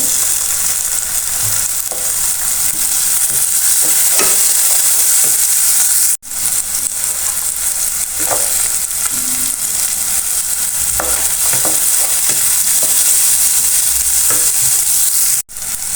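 Chopped tomatoes fry in a pan for a chicken and cheese pasta, giving a steady, close sizzle with occasional stirring scrapes and two brief dropouts, and no talking.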